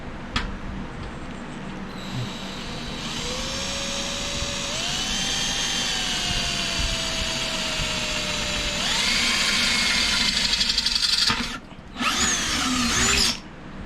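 A power drill whines steadily for several seconds boring a pilot hole, its pitch shifting as it bores, then revs higher before stopping with a few short final bursts.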